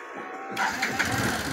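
A motorcycle engine runs after a home repair, starting abruptly and then holding a steady, fairly loud drone with small rises in revs.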